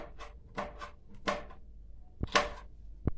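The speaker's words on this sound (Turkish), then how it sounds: "Domateslerimizi doğrayacağım." A knife chops through tomatoes on a cutting board in several separate strokes, close and crisp, with quiet taps of the blade against the board in between.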